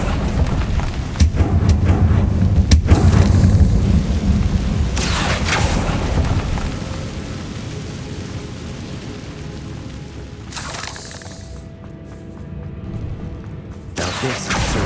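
Confringo fire-blast spells explode in Hogwarts Legacy, heavy booming bursts in a noisy fight mix, loudest early on, then fading to a softer rumble with sharper hits near the end.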